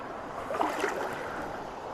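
Wading through knee-deep creek water on a backpacking trail, with swishing, sloshing water close by over a constant rush of flowing stream, and a brief louder splash near the middle.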